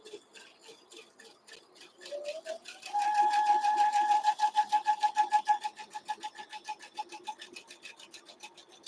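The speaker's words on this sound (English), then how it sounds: "I go back to sewing on the line." Sewing machine stitching a quilt block, starting with slow, spaced needle taps, then running at a steady rapid pace with a motor hum, and slowing into distinct rhythmic stitches before fading.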